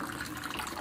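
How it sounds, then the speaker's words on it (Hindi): Water pours steadily into a pot of rice on a home kitchen stove, a continuous close splashing trickle with no talk over it. "अब इसमें थोड़ा पानी और डालती हूँ चावल में।"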